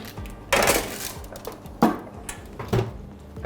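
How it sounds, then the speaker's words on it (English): A pizza tray with a quinoa base and roasted veggies is slid back into an oven, giving a few sharp metallic clatters and knocks, close and moderately loud, with no talk. "So now we pop that back in the oven for about 10 minutes or so."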